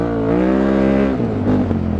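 Gio Sala's KTM 950 Adventure Rally, a 2003 Dakar racing motorcycle, revs hard while being ridden off-road. Its close, steady engine drone shifts pitch, softening slightly toward the end, and no voices are heard.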